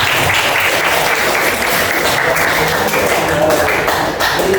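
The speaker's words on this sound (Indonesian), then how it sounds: "Ya, aplaus untuk kita semuanya." A classroom of students breaks into sustained applause, dense steady clapping from many hands filling the room at an even level throughout, with faint voices mixed in underneath.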